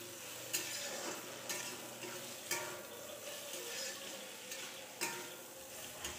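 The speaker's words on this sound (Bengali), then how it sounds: "টমেটোগুলি দিয়ে আবার নাড়াচাড়া করে ভালো করে ভেজে নেব।" Bottle gourd stalks and tomatoes fry in a pan with a constant close sizzle. A spatula scrapes and stirs at regular intervals, giving soft rhythmic knocks over the frying.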